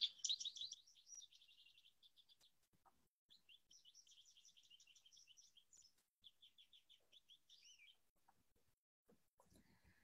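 High-pitched melodious bird song in a backyard, a run of quick bright warbled phrases that stop and start across the clip, heard alone and fairly faint with no talking.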